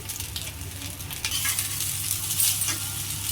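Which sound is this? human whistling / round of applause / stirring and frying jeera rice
stirring and frying jeera rice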